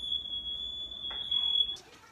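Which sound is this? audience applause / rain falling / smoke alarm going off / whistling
smoke alarm going off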